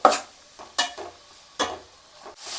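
Tomato mixture for a South Indian boti fry being stirred in a pan over a low flame, with a few separate scraping strokes spaced about a second apart and a soft sizzle underneath.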